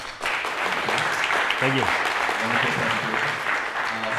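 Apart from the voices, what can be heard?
audience applause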